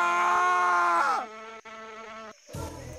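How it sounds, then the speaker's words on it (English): A bumblebee in the video game Crash Twinsanity gives a loud, close, droning buzz that wavers and drops, then gives way to quieter tones and a brief burst of noise. "The humble bumblebee."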